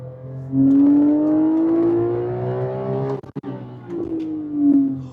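A Porsche 997 GT3 engine revs up close, its pitch climbing in a long rising howl, briefly cutting off with a shift, then revving again.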